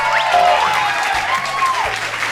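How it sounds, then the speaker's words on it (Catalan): Audience applause greeting a presenter in a children's Catalan alphabet lesson, a short steady burst of clapping with brief whistle-like sliding tones over it. "Un fort aplaudiment!"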